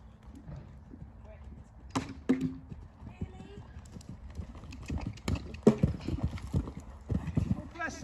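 A horse cantering during a riding lesson, hooves clip-clopping in irregular bursts at moderate distance, with people talking nearby.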